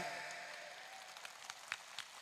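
Scattered clapping from a crowd at a large outdoor political rally, faint and distant, with a few sharper claps standing out over a steady background hum.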